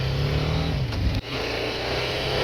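A 2024 BMW G310R motorcycle drops a gear to overtake. Its engine note dips briefly and then climbs again as it pulls away, fairly faint beneath steady road and wind rush.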